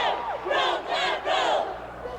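A crowd at a 1987 high school cheerleading nationals yells a traditional cheer in unison, loud rhythmic shouted bursts close together over a couple of seconds.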